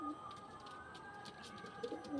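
Domestic loft pigeons, home-bred young from the keeper's master pairs, coo in soft low repeated murmurs close by, steady throughout with a brief louder burst near the end; no one speaks.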